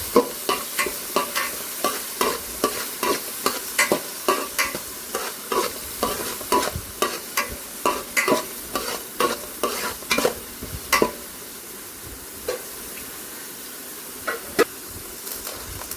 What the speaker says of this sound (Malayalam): ഇനി ഇതിലേക്ക് നമ്മൾ അരിഞ്ഞു വെച്ച് പിന്നെ വെളുത്തുള്ളി അതുപോലെ പച്ചമുളക് കറിവേപ്പില ഇഞ്ചിയൊക്കെ ഒന്നിട്ടിട്ടൊന്ന് എടുക്കാം